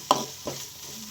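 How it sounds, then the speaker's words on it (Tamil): Goat brain stirred and frying in a pan, two quick spatula scrapes close up over a soft, steady sizzle. "ஆட்டோட மூளையை போட்டு நல்லா கிண்டி விடணும்"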